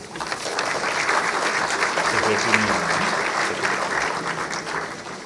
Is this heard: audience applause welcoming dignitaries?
yes